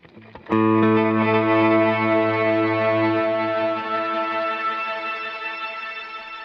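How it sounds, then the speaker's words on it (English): An electric guitar chord played through a Kemper Profiler with a crystal delay adding an octave-up pitch-shifted repeat rings out loud and sustained, its shimmering tail slowly decaying. "with a crystal delay, you can add a pitch shifted signal on the delay. I turn an octave up"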